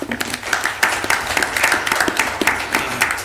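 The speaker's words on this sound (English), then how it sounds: "If y'all would give them a round of applause" An audience at a board of directors meeting claps for employees receiving service awards, a brisk, crowded patter of hands, loud and near, with no voices over it.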